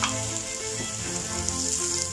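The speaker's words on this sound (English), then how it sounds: "Fry a little bit the onion and garlic until it will get brown." Onion, garlic and fish balls frying in a pan for gisadong sotanghon, a continuous close sizzle with faint stirring, brief and without speech.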